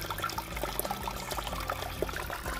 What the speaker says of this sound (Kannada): ಒಂದೂವರೆ ಇಂಚಿನಷ್ಟು ನೀರು ಒಟ್ಟಿಗೆ ಇದರಲ್ಲಿ ಹೋಗ್ತಾ ಇದೆ.